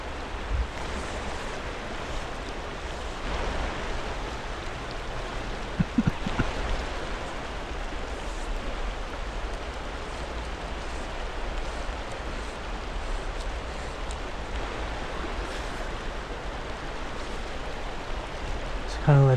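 Slow water in a trout stream makes a steady, broad rushing wash that holds even and unbroken, with faint bumps and knocks now and then.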